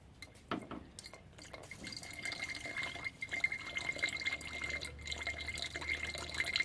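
Water quietly fills up a slot with a faint trickle and occasional soft drips, low and steady against a hushed background.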